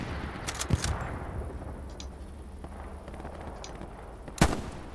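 Rifle fire in the Hell Let Loose battlefield shooter: a pair of sharp cracks near the start and another loud shot later, over a steady low rumble of distant combat ambience.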